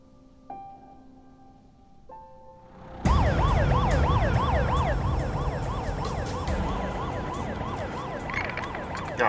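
In a Korean TV drama, after a couple of quiet electronic tones, a loud emergency vehicle siren bursts in and wails continuously with a rapid rising and falling pattern, close by.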